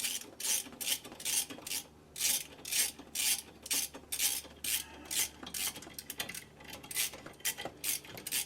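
A ratchet wrench fitted with a Torx 30 bit turns a bolt on a Chevrolet Traverse rear hub bearing job, a close series of quick raspy clicking strokes repeating in bursts with short pauses.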